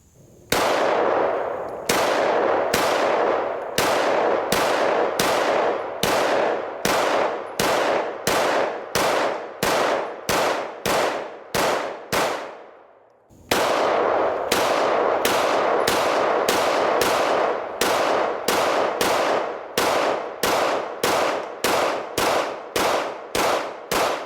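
Pistol shots from a S&W 2.0 Carry Comp and an Echelon 4.0c fired in steady, rapid strings, each crack loud and sharp with a brief ringing tail, two long volleys split by a short pause, no talking.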